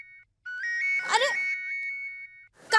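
Mobile phone ringtone for an incoming call, a bright electronic melody of repeated beeping notes, fairly close, with a brief burst of voices and noise partway through the ringing.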